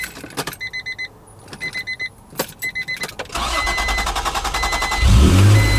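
Keys jingle in the ignition of an Acura NSX with a manual transmission, then the engine cranks and catches into a steady, loud idle that swells in the final second.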